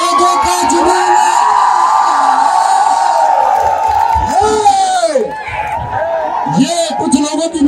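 A large crowd at a UP Police award ceremony cheers loudly, with whoops and shouted calls rising and falling in waves, close and sustained throughout.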